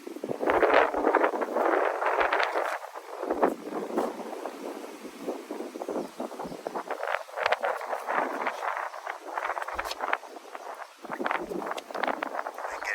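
Gusty outdoor wind buffets the microphone beside a 1980 GMC Sierra K2500 4x4 pickup, a loud, rumbling, fluctuating rush that never lets up.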